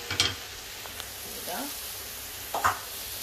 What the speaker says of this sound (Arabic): نخلو هاد الميلونج يتقلى